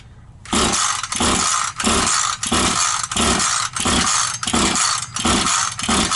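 A Husqvarna 440 chainsaw engine catches and runs, loud and close, with a rhythmic surging roar pulsing about every two-thirds of a second as the throttle rises and falls, no talk.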